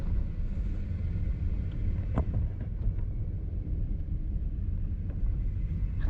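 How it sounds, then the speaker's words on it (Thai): Steady, roaring wind from a tropical storm sweeps across an exposed rural area of a Laos town, a loud continuous rumble with gusting buffets against the microphone and no voices. "พายุเขตฮ้อน"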